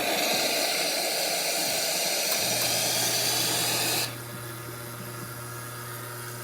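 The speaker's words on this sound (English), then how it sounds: "Now for the steamer, you can see it's steaming quite well, and hot water." An espresso machine steam wand on an E61-group machine hisses strongly and steadily for about four seconds, then gives way to a softer, lower mechanical hum.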